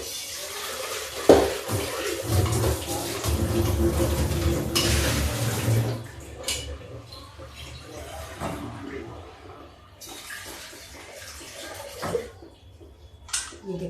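Tap water runs steadily as something is washed in a home kitchen, a loud, continuous rush for several seconds before it eases into quieter splashes and occasional clinks of pots and utensils.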